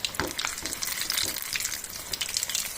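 Snacks fry in ration palm oil, a busy crackling sizzle with bubbling bursts and a few stirring scrapes, close and continuous.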